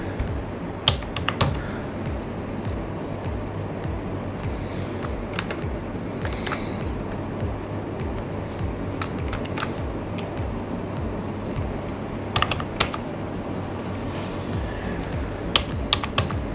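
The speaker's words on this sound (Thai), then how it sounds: "เดี๋ยวผมจะพิมพ์พาสเวิร์ดเก่าเข้าไปก่อนเนาะ" Keys tapped on a computer keyboard while an old password is entered during setup of a QMiro-201W tri-band Wi-Fi mesh router: scattered close clicks in short bursts over a steady low background hum.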